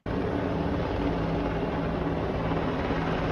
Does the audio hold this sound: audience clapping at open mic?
no